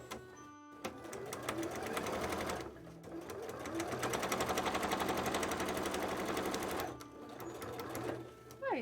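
A sewing machine stitching cosplay fabric, running in fast rapid bursts with short pauses between runs, close and fairly quiet, with a little talking mixed in.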